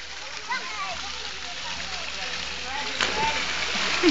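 Water splashes and sloshes steadily, with a louder splash near the end and distant voices in the background.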